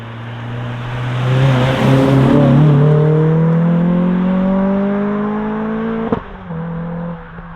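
A modified Renault Clio RS200 engine revs up loudly through an Akrapovič exhaust with carbon tips, pitch climbing and holding, then a sharp pop and the revs drop back to a steady idle.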